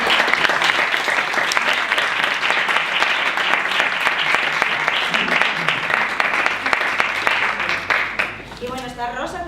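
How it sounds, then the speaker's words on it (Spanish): An audience claps for a speaker at a talk in a sustained burst of dense applause that holds steady, then thins out, with a voice speaking as it fades at the end. "Primero te aplaudimos"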